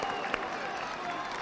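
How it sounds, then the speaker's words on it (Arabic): Crowd at a wrestling event applauding the Algerian wrestler, a steady wash of clapping and cheers with a voice faintly audible underneath. "طبعا تحيه من الجمهور"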